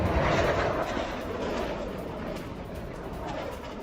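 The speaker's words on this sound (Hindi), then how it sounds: "सीमा के आसपास का इलाका है वहां पर F-16 उड़ान भरते हुए दिखाई दिए हैं" F-16 fighter jets flying near a border in wartime send a steady, broad roar overhead, a continuous distant jet rumble that holds without break and carries no voices.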